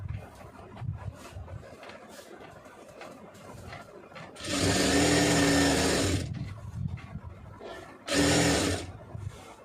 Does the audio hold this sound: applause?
no